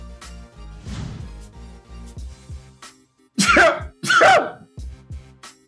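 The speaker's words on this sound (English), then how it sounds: "Oh no, I gotta sneeze." A person sneezes twice in quick succession, loud and close, after a quiet wind-up, over soft video game music from a college basketball game.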